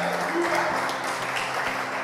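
Congregation at a church sermon applauding in praise, a steady dense wash of clapping filling the room, fairly loud and continuous with faint tonal background sounds underneath.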